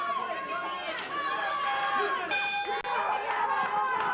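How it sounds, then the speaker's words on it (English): A ring bell rings to start a USWA championship wrestling match, a sustained metallic tone struck about midway and ringing out over a busy, murmuring arena crowd and commentary voices. "Downtown Bruno calling for the bell"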